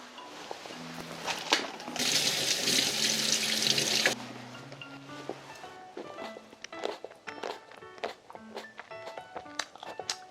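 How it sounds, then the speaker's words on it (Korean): Apple tomatoes rinsed under a running kitchen tap, a burst of rushing water lasting about two seconds, framed by footsteps and light handling noises nearby. "일단 두 개만 제가 좀 씻어 올게요."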